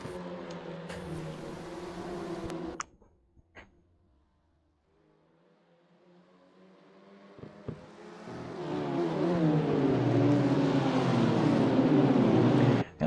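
A race car engine in a sim racing game at Zandvoort, buzzing loudly, dropping away to near silence, then rising again into a strong sustained high-revving drone.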